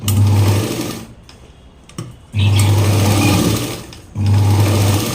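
A sewing machine stitches the back of a blouse with loud, close, rapid stitching in three bursts, separated by short pauses with quiet handling noise.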